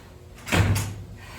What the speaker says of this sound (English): I have to close this door.